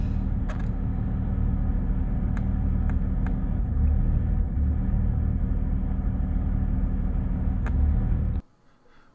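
An RV engine with a misfire drones while the vehicle is driving, a steady low rumble with occasional faint ticks, before cutting off abruptly near the end.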